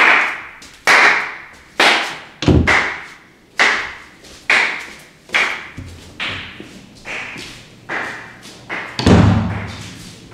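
Single hand claps repeat at a steady pace, about one per second. Each sharp crack rings out with a short decay, and the claps sound fairly close and loud, as if heard through a vocal booth window in a recording studio.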